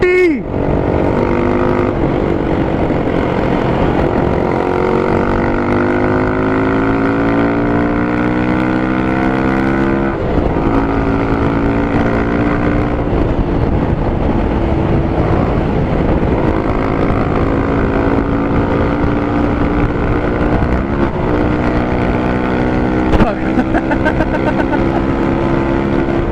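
A motorcycle with a Yoshimura USA slip-on exhaust is ridden hard and heard up close, rising in pitch through repeated gear pulls and short drops between shifts, a loud continuous engine note with wind noise.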